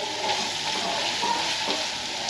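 Food sizzles and fries steadily in a pan as Leah cooks in a home kitchen, a continuous close hiss with faint stirring and clatter, no one speaking.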